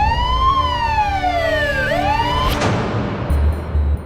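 An ambulance siren wails in sweeping, gliding tones, loud and close, rising and falling before a sudden burst of broadband noise that cuts across the end, with no voices heard.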